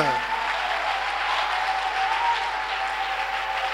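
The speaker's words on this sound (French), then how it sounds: "give the Lord a big clap" A church congregation claps together in sustained, dense applause filling the room, steady and fairly loud throughout.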